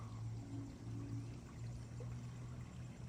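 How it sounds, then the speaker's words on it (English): Garden stream and waterfall by a pond among Japanese maples and conifers: a steady, soft, continuous pour of running water with a low hum underneath, faint and distant, no voices. "hearing the stream and waterfall sounds"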